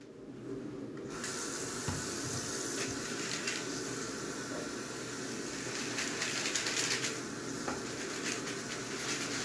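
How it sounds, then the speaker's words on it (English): A bathroom water tap runs steadily while soda can pull tabs are rinsed, giving a continuous close hiss and splash that starts abruptly after a brief quiet moment and carries on alone. "Let's go into the bathroom and wash them off."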